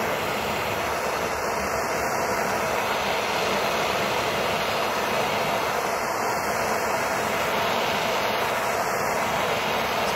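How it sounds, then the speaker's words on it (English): A jeweller's torch roars steadily while heating a silver ring band for annealing on a cold workshop day, a loud continuous hiss with no pauses throughout. "Now I'm going to do the annealing. I've got my torch. I'm going to get it up to temperature."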